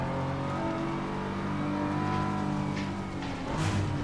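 A race car engine in Assetto Corsa Competizione, a steady droning hum with a slight rise in pitch near the end, continuous and moderately loud with no talk.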